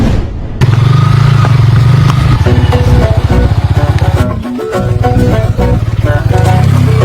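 A motorcycle engine revs loudly and close in pulsing bursts, dipping briefly before picking up again, with little else audible over it.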